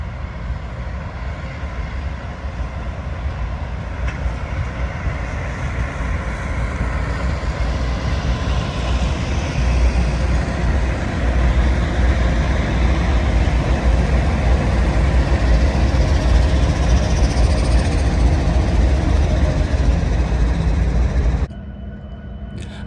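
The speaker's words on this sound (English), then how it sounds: "the geometry train's final maneuvers as it navigates into a layover siding" A railway geometry train rumbles steadily as it maneuvers slowly into a layover siding at Greenville Yard, South Carolina, a loud continuous low engine drone that holds throughout before cutting off near the end.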